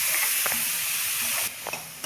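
Masala and curd cooking in a pan for soya chunk biryani, giving a steady close hiss and sizzle with a few brief stir scrapes, no talking.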